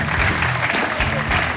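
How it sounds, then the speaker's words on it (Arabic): Studio audience applause for contestant Zahra on a Tunisian game show, a short burst of dense clapping filling the room with some voices mixed in. "تصفيقة على زهرة"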